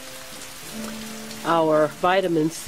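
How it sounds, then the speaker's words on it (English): Rain falling outdoors on farmland, a steady soft patter and hiss throughout, with someone talking over it. "we're going to try to limit our time out here in the rain"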